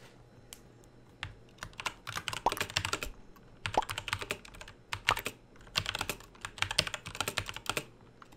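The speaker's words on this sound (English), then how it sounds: "I'm too fast at typing." Fast typing on a computer keyboard during an online game comes in quick, close bursts of clattering key presses with short pauses between runs, with no talk.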